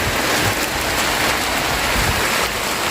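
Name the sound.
heavy rain pouring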